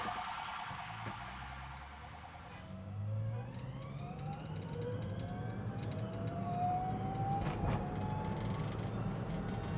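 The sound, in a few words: emergency vehicle siren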